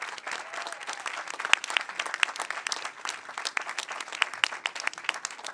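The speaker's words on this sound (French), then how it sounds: "C'est Mario, et on peut l'applaudir" A crowd at a mock trial event about remote work applauds the best speaker. The clapping is steady and moderately distant, with brisk overlapping claps throughout.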